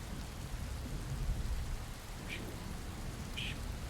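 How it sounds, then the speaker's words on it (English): Storm rain pours steadily on a surface with a low thunder rumble beneath, a constant loud wash of wind and rain broken by a couple of brief sharp crackles. "consistent, loud noise of the wind and the rain, thunder, lightning"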